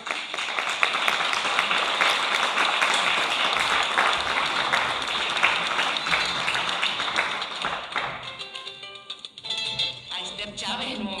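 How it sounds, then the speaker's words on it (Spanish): A strong round of audience applause at a historical heritage conference session in San Bartolomé de Tirajana, dense steady clapping throughout, thinning toward the end as a voice begins. "Un fuerte aplauso."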